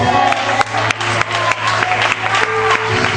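A congregation at a Christian gospel gathering in Barueri, São Paulo, applauds in a steady, full wash of clapping, with a sustained low tone humming underneath throughout.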